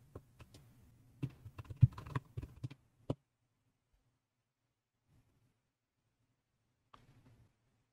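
Keys clack on a computer keyboard as a wallet password is typed, a quick irregular burst of close clicks followed by quiet and a few faint taps.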